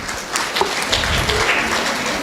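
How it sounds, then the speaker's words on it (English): Audience applause for the winners at a national nursing conference, a steady wash of clapping at moderate level throughout the short stretch, with no voices over it. "A big round of applause once more for all the winners."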